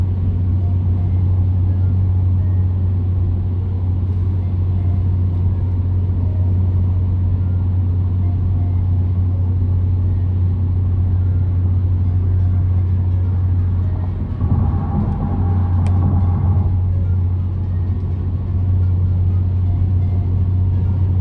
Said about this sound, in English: Still hear the rumble from the engine.